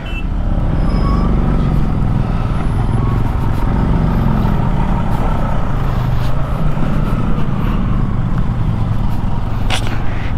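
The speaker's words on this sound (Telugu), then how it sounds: "ఓహో భారీ బండ్లు వస్తున్నాయి పైనుండి." Heavy trucks rumble down a high mountain road on the route to Khardung La, Ladakh, a steady loud engine drone with wind noise throughout and no clear talk.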